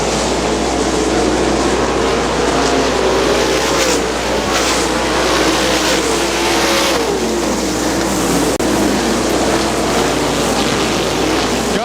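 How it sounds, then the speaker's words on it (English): 410 sprint cars race around a dirt oval in a 2001 event, their engines a loud, continuous roar of high revs that rises and falls as the pack passes close by. "Chad Blind in the 5 car, your leader."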